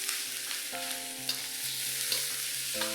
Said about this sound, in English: Break the minced pork up as you're frying it.